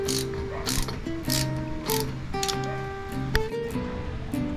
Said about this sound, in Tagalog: Nakaset nga pala ito sa 4 Newton meter itong torque wrench ko.